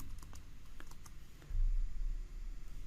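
Soft, steady typing on a computer keyboard as a command is entered, quick light key clicks over a low background hum, with no talk.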